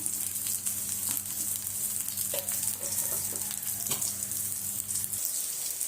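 Prawn vadas fry in hot oil with a steady, close hiss and sizzle. Faint clinks and scrapes come as the pieces are turned over.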